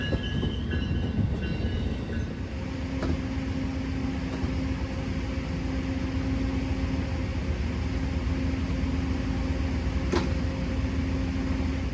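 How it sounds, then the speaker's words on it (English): Amtrak 49, the Lake Shore Limited passenger train running New York to Chicago, rolls past steadily near Elkhart with a continuous rumble and faint wheel clatter, no voices. "Amtrak 49 came around the curve, with Amtrak 117 leading and Amtrak 100 second"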